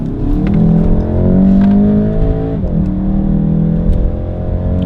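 A front-wheel-drive VW Golf GTI Mk7.5 accelerates hard on a country road with driver assists switched off, its engine note climbing steadily, briefly dipping at a gear change, then pulling strongly again from inside the cabin.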